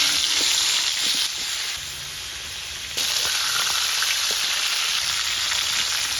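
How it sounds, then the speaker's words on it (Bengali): Washed chicken meat frying in hot oil in a pan for biryani, a loud, steady close sizzle throughout that dips briefly in the middle and then returns, with no talk. "মাংসটা ধোয়া হয়ে গেছে, এখন তেলে ভাজি দিলাম।"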